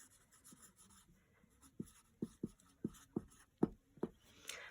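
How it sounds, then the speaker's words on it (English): Pen scratching out notes on paper about X-ray diffraction, a quiet series of short strokes that grow firmer and more distinct toward the end, close and alone. "So I'll just write that down over here."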